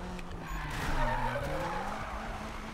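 A tuned Mazda Miata in Need for Speed 2016 skids under the e-brake, its tires squealing in a sustained, wavering screech over the engine drone, close and loud, with no talk.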